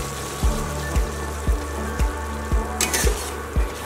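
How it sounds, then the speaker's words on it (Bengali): Taro stolon curry with mustard, poppy seed and grated coconut being stirred in a pan, heard as about eight evenly spaced thuds of the spoon over a continuous sizzle, close and clear with no voices. "ভালোভাবে নাড়াচাড়া করতে হবে।"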